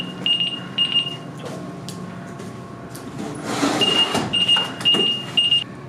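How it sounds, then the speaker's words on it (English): A smoke alarm beeps in short bursts of high-pitched tones, repeating in clusters over a noisy indoor background with some shuffling and movement. "Oh, a smoke alarm."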